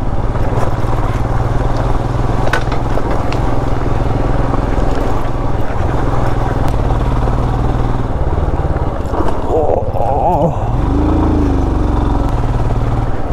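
A motorbike ridden on a road through Bhadra Tiger Reserve near Chikmagalur, its engine droning steadily and loudly up close throughout with wind rush, the pitch dipping and rising near the end as it slows and speeds up.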